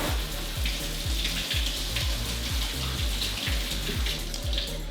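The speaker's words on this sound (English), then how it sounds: "we're gonna rinse the fruit now" Fruit is rinsed under a running kitchen tap, making a continuous, fairly loud splash of water with a steady rhythmic pattern throughout and no speech.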